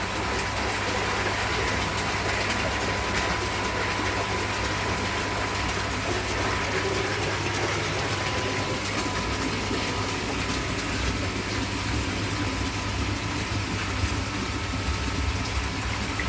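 Koi pond Easypod filter system running with its pump, a loud, steady broadband rush of flushing water and motor hum that continues without break throughout.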